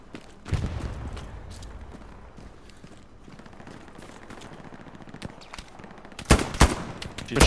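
Machine gun fire from behind the players in a multiplayer shooter match, heard as bursts of shots: one near burst early, a steady backdrop of distant fire and noise, then a loud close burst of rapid shots near the end.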